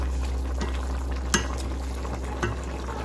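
Beef tripe being stirred in a little vegetable oil, a steady low sizzle and bubbling with a couple of sharp utensil clinks against the pot, no talking.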